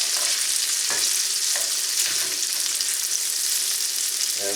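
Fried rice sizzles loudly and steadily in a hot skillet as it is tossed, with a few soft scrapes and clatters cutting through the constant hiss.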